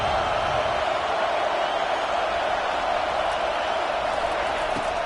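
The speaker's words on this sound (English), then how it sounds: "Listen to this crowd just shaking the girders of this place" A stadium crowd in the NCAA 25 video game, Ohio State vs Oklahoma, roars in a dense, steady wall of cheering that holds at a constant loud level throughout, with no distinct voices standing out.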